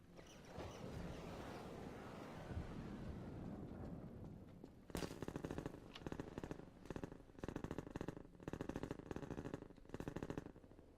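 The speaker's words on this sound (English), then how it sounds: "Appear to be taking fire." Rapid bursts of gunfire from Combine soldiers in a video game, sharp repeated cracks in quick clusters after a stretch of steady wind-like rushing noise, fairly faint overall.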